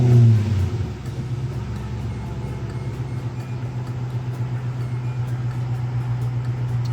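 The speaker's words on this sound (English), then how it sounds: "Start the car." An Infiniti M45 sedan's engine cranks and catches in a garage, a brief loud surge at startup settling within a second into a smooth, steady low idle that hums on evenly.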